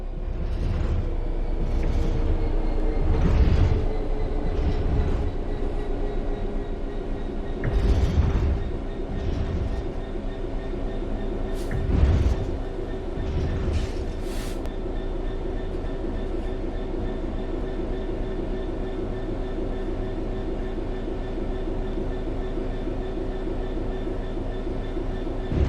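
A train in Train Sim World 3 coasts on level track with the throttle at zero. It gives a steady rolling rumble with rhythmic clickety-clack wheel beats every few seconds, close and continuous, with no voices.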